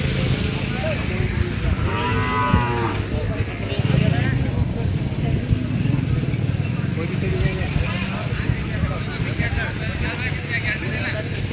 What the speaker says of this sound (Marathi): या साईडला म्हशी येतात